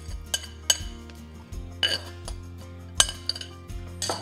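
A Dutch oven being handled for oven-baked bourbon chicken thighs, with scattered metallic clinks and knocks of pot and lid at irregular intervals, close and fairly loud.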